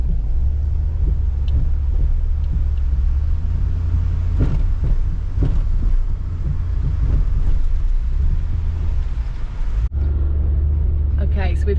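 A car driving over sand dunes near Nizwa, Oman, a heavy low rumble with wind buffeting the microphone and intermittent bumps, with people talking inside the vehicle.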